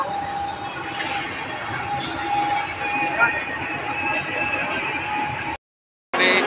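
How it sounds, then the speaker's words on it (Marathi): Crowded Mumbai suburban local train bound for Churchgate, packed with cricket players heading to a final match: steady loud rumble of the running train with a sustained whining tone, briefly cutting out near the end, with crowd voices mixed in. "चर्चगेट गाडी पकडलेली आहे आणि गाडीमध्ये खूप गर्दी आहे"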